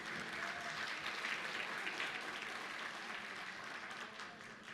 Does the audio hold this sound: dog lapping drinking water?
no